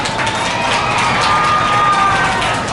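A Thai audience applauds together, a continuous, fairly loud patter of clapping with some cheering that holds steady for a few seconds.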